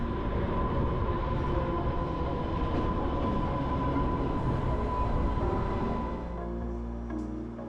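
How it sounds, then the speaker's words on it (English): A passenger train on the Isle of Wight rumbles steadily along the line toward Lake, a loud continuous rail roar with a sustained tone that eases slightly near the end, no talking over it. "This is my train back to Lake."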